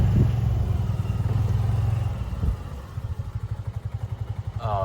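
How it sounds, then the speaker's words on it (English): A small golf cart motor runs close by at a grass airstrip, a rough low putter with a rhythmic pulsing chug toward the end, no voices. "Park your little golf cart."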